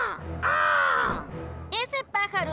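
A cartoon bird in the Octonauts series gives loud, drawn-out, nasal caws, one long call followed by a quick series of shorter ones, with voices speaking around them.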